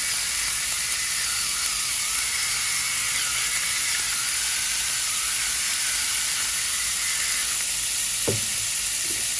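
Beef sizzles steadily in a hot pan with cooking oil for an empanada filling, a loud, continuous frying hiss, with a brief stir or clatter near the end and no talking.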